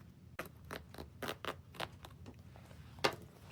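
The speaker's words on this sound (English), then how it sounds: "I'm gonna put my seam ripper in there and just seam rip" A seam ripper snags and tears stitches along a seam in denim jeans, a series of short, close scratchy snips in an uneven rhythm, with one sharper rip near the end.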